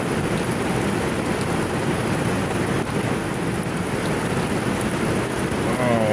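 Heavy rain pours down in a dense, continuous roar, drumming steadily on surfaces throughout.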